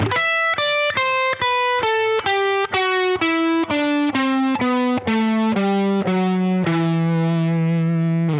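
Distorted electric guitar plays a descending E natural minor scale in single notes, one after another at a steady pace, ending on a sustained low note.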